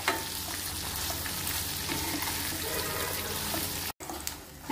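Curry leaves, peanuts and dried chillies frying in a pan, a dense steady sizzle with stirring scrapes, cut by a brief dropout before resuming.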